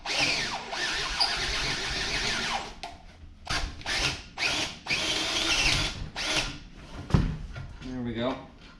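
Power drill boring through steel with a drill bit on the roller frame of a 1950s Caterpillar, loud bursts of grinding whine with stop-start rhythm and squeals, close up, someone speaking briefly near the end.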